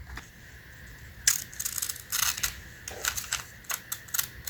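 Scissors snip through paper while a rough shape is cut out for a Ramadan garland decoration, giving a run of short crisp crunching snips in irregular bursts, close and fairly quiet with no talk.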